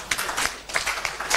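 Audience clapping for the minister at a results release event, a short burst of several people applauding in irregular waves, close and fairly loud.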